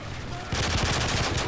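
A short burst of rapid gunfire from a holo-sighted weapon in Call of Duty: Modern Warfare 3 breaks in halfway through, several quick shots close together over low game noise.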